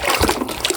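A toy car is dunked and swished in water, making brief splashy trickles and gurgling bursts, close and fairly loud, with no voices.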